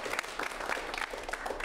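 An improv comedy audience claps for the show's winners in a short burst of dense, even applause at moderate volume.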